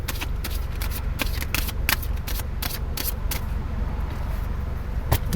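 A deck of tarot cards is shuffled close up, a continuous riffling flutter of quick card snaps and slaps that runs unbroken throughout.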